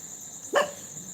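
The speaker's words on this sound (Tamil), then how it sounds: "எங்கள் வீட்டில் உள்ள நாய் கைஸ் அதான் கிடந்து குலைச்சிட்டு கிடக்கு" A house dog gives a single sharp bark, fairly close and loud against quiet room background.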